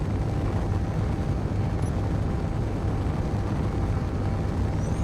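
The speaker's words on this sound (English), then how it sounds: "Oh, there's a missile." A missile in the space game Space Engineers roars past as a dense, steady, loud rumbling thrust with no breaks, heavy in the low end and filling the whole moment without any voices.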